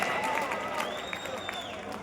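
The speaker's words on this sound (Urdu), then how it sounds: "ایک بار ضرور تالیاں اور بجا دیجیے" Audience at an Urdu mushaira poetry recital in Bangalore, India, applauding in a steady, dense patter of clapping from a crowd, with whistles and murmuring voices mixed in throughout.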